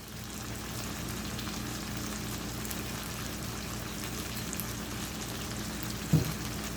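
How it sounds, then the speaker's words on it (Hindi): Steady sizzle of potatoes frying in oil with masala as nigella seeds (kalonji) go into the pan, an even crackling hiss throughout with a brief clink near the end. "इस वक्त इसमें मैं कलवंजी ऐड करने लगी हूँ।"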